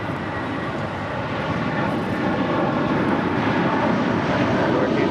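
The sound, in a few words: airplane taking off at LAX airport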